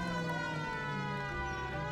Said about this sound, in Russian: Сирену, давай.